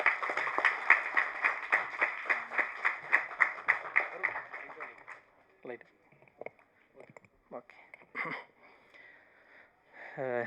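A film audio launch crowd claps with rapid, dense applause for the debut director, loud at first then thinning out as scattered claps and a voice take over.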